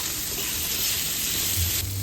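Squid balls and kikiam sauté with softened vegetables in a hot pan for pancit canton, giving a steady, close sizzle with light stirring and no talk.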